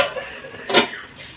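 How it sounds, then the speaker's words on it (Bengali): A single short clank as a lid is set onto a pot of rasgulla cooking on low flame, close by, with light kitchen rustling before and after. "একটু ঢাকনাটা দিয়ে দেবো।"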